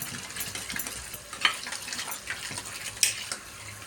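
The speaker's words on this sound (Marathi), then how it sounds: "अशा प्रकारे पाण्याने छानपैकी टोमॅटो धुवून घ्यायचेत." Tomatoes are rinsed under running water in a home kitchen, giving a soft steady trickle and splash with a couple of faint clinks.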